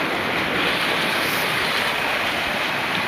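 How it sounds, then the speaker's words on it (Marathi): Floodwater rushing fast across flooded village fields after a night of rain, a loud continuous roar of churning water with wind buffeting the microphone, no voices. "एवढ्या वेगाने पाणी जात आहे."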